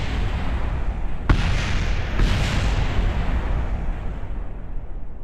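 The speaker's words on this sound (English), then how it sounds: "Why are there like 30 explosions?" Rocket explosions in the space-flight game Kerbal Space Program: two sharp booms a second apart rise out of a continuous heavy rumble, loud and close.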